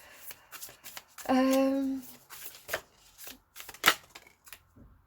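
A deck of cards being shuffled, a short whirring riffle followed by scattered taps and flicks of cards handled up close.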